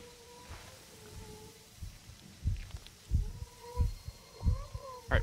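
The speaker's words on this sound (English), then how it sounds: "Heartbeat." A heartbeat effect pulses in the horror game Saiko no sutoka, with low thudding beats in paired rhythm that grow louder and closer, under faint game tones and occasional speech.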